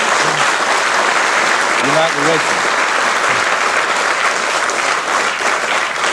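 A live audience at a televised 1974 BBC programme on Muhammad Ali breaks into a steady wash of applause and crowd noise that runs the whole time, with a voice briefly speaking over it.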